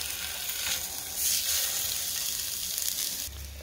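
Beef patties fry in a pan with a steady bright sizzle, close and continuous, swelling slightly midway, with a low thump near the end and no talk.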